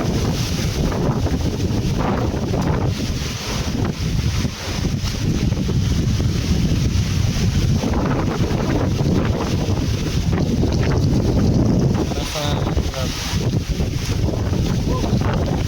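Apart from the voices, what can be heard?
strong typhoon wind blowing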